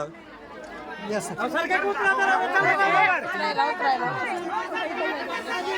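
Dense crowd of construction workers chattering in harsh heat at a free-goods distribution in Latur, a continuous babble of many overlapping voices at close range with a steady, busy level throughout.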